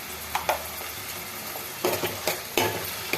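Tomato pieces sizzle in a hot pan for an onion-tomato egg curry, with a steady frying hiss broken by a few scraping stir strokes, close and with no voices.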